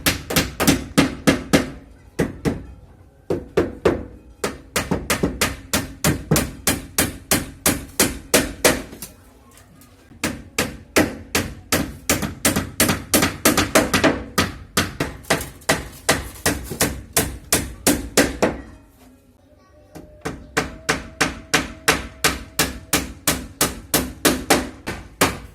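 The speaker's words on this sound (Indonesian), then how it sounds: "kemudian dipaku papan penutup bagian depannya" Steady hammer blows drive nails into a wooden formwork board for a hanging concrete beam, loud, sharp and close, coming in quick rhythmic runs of strikes with a few brief pauses between them.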